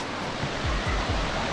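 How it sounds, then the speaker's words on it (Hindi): Steady roaring rush of the Jibhi waterfall in the Tirthan Valley, Himachal Pradesh, a dense continuous wash of falling water heard close and fairly loud, with low rumbling surges and no voices. "हम ऑलमोस्ट पहुंच गए हैं जीपी के वाटरफॉल पे"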